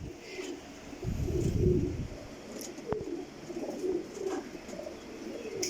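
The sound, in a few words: Pakistani pigeons cooing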